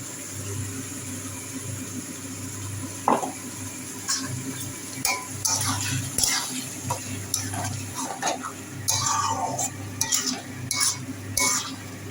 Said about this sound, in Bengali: আলুও সেদ্ধ হয়ে গেছে এবার পোস্তটা দিয়ে দিই